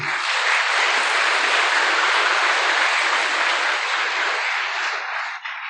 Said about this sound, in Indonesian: Tepuk tangan untuk Pak Nur Asnawi